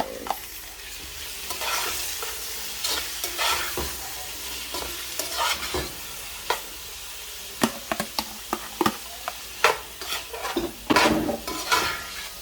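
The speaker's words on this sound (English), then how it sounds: "Let's just fry it for a little bit." Carrot and tomatoes fry with pak choi in a pan, giving a steady close sizzle punctuated by many brisk spatula scrapes and knocks against the pan that grow busier toward the end.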